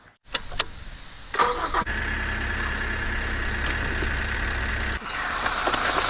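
A 150-horsepower car engine running on B20 fuel cranks and catches, then settles into a steady, rumbling idle, with a few clicks and clunks early on.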